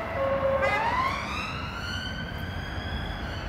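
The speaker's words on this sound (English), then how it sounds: "Sounds like we've got some police activity." A police siren wails past, its rising tone sweeping up then holding steady with falling pitch as it recedes, moderately distant over a broad street rumble.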